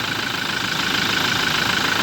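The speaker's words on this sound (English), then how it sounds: "if we start the car now" A 2023 Toyota Hilux 2.8 GD-6 4x4 diesel idles close by with a steady, loud, rough hum and slight knock, no voices over it.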